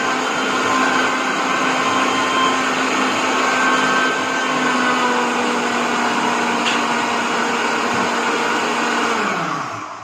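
A mixer grinder whirs loud and steady with a jar overfilled with watermelon, straining a little as it blends, then winds down as it stops at the end.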